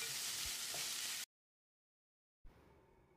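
Chopped medium tomato joins softened onion in a hot pan for okra curry, sizzling steadily up close, cutting to silence for about a second, then resuming at a quieter level.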